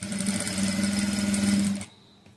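A sewing machine runs steadily, stitching thread piping onto a net-cloth blouse with its lining, a close, even mechanical whir and hum that stops abruptly near the end, followed by near silence.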